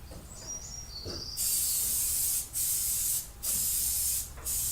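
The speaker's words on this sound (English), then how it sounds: "I'm going to spray glue on the outside." A spray can of glue hisses in three long, loud bursts separated by brief pauses, with faint chirping in the background beforehand.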